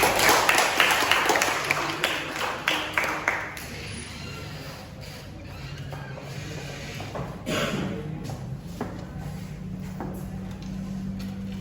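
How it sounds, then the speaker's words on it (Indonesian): A seminar audience claps in a short burst of distinct, fairly close hand claps that fades after a few seconds, leaving a quieter room with faint tones and some murmuring. "Beri tepuk tangan kepada kedua Kakak."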